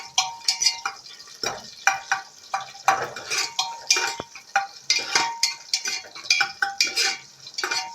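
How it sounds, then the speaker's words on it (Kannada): Onions stirred in a frying pan for sambar, with rhythmic scrapes and clinks of a spoon against the pan over a light sizzle, close and lively throughout. "ಈಗ ಸ್ವಲ್ಪ ಈರುಳ್ಳಿ ಸ್ವಲ್ಪ ಬ್ರೌನಿಷ್ ಆಗಿ ಬರಲಿ."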